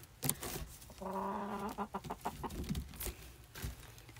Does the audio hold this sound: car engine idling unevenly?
no